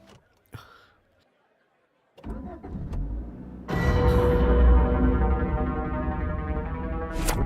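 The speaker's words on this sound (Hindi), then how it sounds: "गाड़ी स्टार्ट हो गई है" A car engine cranks and catches, then settles into a loud steady idle close by, after a few clicks and a brief whir beforehand.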